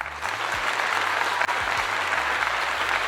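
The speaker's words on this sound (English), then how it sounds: "Let's give him a clap for that." An audience applauds steadily and loudly at a talk about Coach Prime, Deion Sanders, with a low hum running beneath the clapping.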